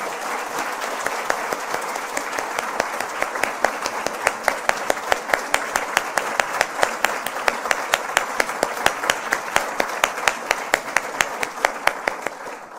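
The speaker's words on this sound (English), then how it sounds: "Let's collectively give her another huge round of applause." Sustained audience applause at a women's symposium, dense steady clapping from a crowd with sharper individual claps standing out, loud and continuous for the whole stretch.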